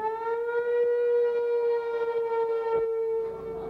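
An air raid siren wails loud and steady during NATO bombing in Yugoslavia, holding one sustained droning pitch throughout with a slight fade at the end.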